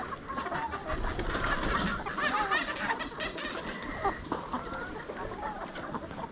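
Chickens cluck and chatter together outdoors on a farm in rainy weather, a steady, moderately close jumble of calls with no talking.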